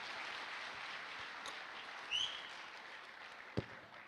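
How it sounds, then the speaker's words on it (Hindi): Applause from an audience at a business motivational gathering, a soft, steady patter of many hands that stays faint and distant throughout, with a brief rustle midway and one sharp knock near the end. "बधाई, जोरदार तालियां होनी चाहिए"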